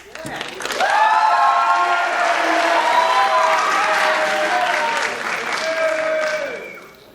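An audience at the 2017 LHS Festival of Dionysia greets Theseus with a burst of applause and whooping, cheering voices. The sound swells quickly, holds loud and full for several seconds, then fades.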